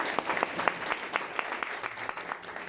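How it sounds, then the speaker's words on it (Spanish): Clapping from the audience at a Spanish-language novel launch at a memory and peace centre, honouring two men. Moderate applause with distinct individual claps, fairly close, and no talking over it. "el aplauso para este par de caballeros"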